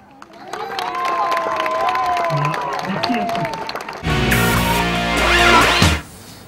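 A crowd at a Camargue bullfight in the arena shouts and cheers with scattered applause, a loud, sustained roar with rising voices. Partway through, a burst of loud, distorted noise comes in and then cuts off abruptly.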